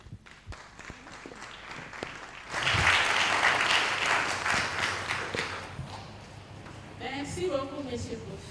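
An audience at a church plenary session in Africa breaks into applause, a dense wash of clapping swelling suddenly and holding for several seconds, with speech before and after.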